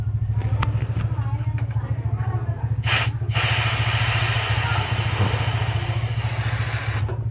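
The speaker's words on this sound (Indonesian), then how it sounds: "Setelah itu baru kita buang freonnya dengan cara menekan pentil yang ada di bagian bawah sini ya." Freon refrigerant hisses out in loud, broad bursts as the low valve of an air conditioner is pressed, over a steady low machine hum.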